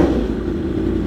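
Yamaha R1M sport motorcycle engine held against its speed limiter, a loud, close, steady buzzing drone with a rapid stuttering pulse across the whole short moment, no talk.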